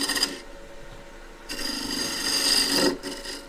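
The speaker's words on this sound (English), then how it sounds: "I can also turn the tenon using just a straight scraper, using it like a parting tool." A straight scraper parts a wooden tenon on a lathe while turning a stool, giving close, loud rasping scrapes: a short burst, a pause, then a longer sustained cut that fades out.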